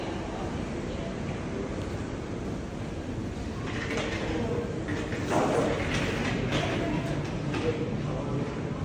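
A London Underground train rumbles into the station, its low roar swelling toward the end while people talk nearby on the platform.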